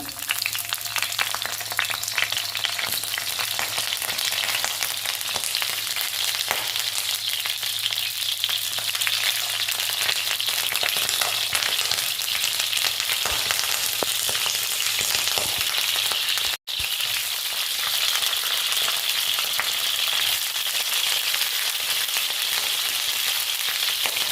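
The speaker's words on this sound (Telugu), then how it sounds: "ఆయిల్ వేడెక్కింది వంకాయలు వేస్తున్నాను" Eggplants dropped into hot oil for a coconut and chana dal spiced brinjal dish, giving a loud, continuous close-up sizzle and crackle that holds steady throughout, briefly cutting out once near the end; no speech.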